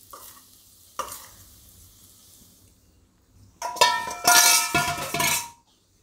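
Dal powder being stirred into spiced oil in a pan for Gujarati dal premix: a soft sizzle, then a louder burst of scraping, clinking spoon-on-pan stirring near the end.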